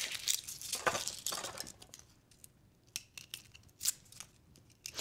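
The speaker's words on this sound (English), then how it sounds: "next what I wanna do is to peel a clove of garlic" A clove of garlic being peeled with a knife: quiet crinkly rustles of papery skin and small scraping snips, a busier burst at first, then sparse, soft clicks and scratches, close and without talk.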